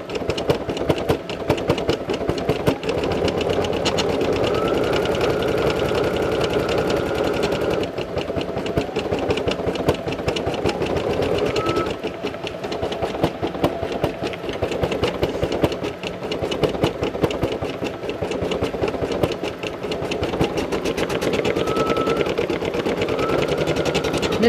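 Brother SE1900 embroidery machine stitching a hat, a fast, even mechanical clatter of needle strokes with a low motor hum underneath, running continuously with a brief shift in tone partway through, no talking.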